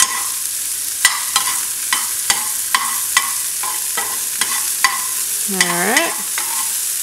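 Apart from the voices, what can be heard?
garlic being stirred and frying in a pan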